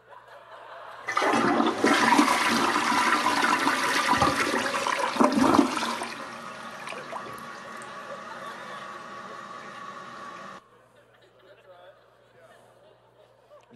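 A toilet flushes loudly as a sound effect, a rushing swirl of water that surges for several seconds, then drains away and settles into a quieter trickle before cutting off.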